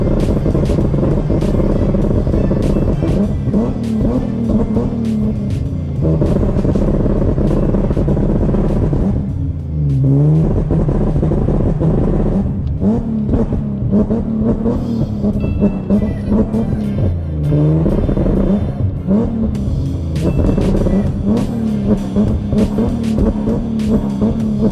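An Infiniti G37 with an UpRev tune holds a loud, buzzing rev against a two-step throttle limiter, the engine note pulsing and dipping briefly a few times over a sustained close roar.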